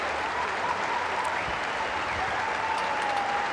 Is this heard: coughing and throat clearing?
no